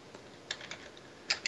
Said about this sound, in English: I'll type it into chat here.